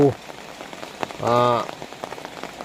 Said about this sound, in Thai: ฝนกำลังตกนะครับตอนนี้ฝนกำลังตก